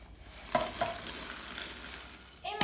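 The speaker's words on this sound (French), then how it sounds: "Et maintenant, je mélange" Spoon stirring broken round biscuits into melted chocolate, soft scraping strokes with a few sharper scrapes, close and quiet.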